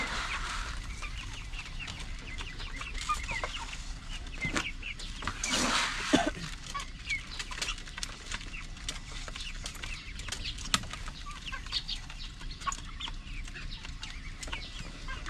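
Chickens kept for meat cluck and murmur in a backyard coop, a dense, steady chatter of nearby hens with a few louder squawks and rustles, no talk.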